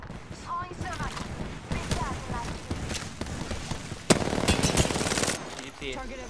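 Rapid automatic weapon fire in Apex Legends: sharp bursts and a dense volley partway through, heard under a player talking excitedly.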